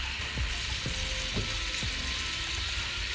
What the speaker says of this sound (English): I'm gonna let this steak just cook, brown on one